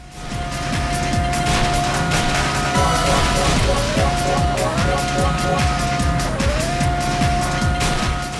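Racing car engine from Sega's Monaco GP, a remake of the 1979 arcade game, droning steadily with shifting pitch amid dense game sound effects and a constant high tone throughout.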